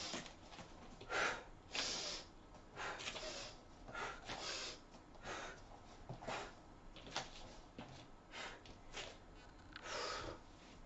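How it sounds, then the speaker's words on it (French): Someone does an Animal Flow exercise, drawing breath in through the nose and then exhaling through the mouth. The breaths come as a series of soft, close, rhythmic huffs and snorts, with no talking. "Et quand j'ai terminé ma rotation, j'expire par la bouche."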